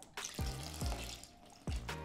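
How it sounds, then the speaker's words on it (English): Warm water pours into chocolate cake batter for a no-oven, eggless cake, a soft splashing trickle with a few gurgling bursts, close and quiet. "And now the warm water."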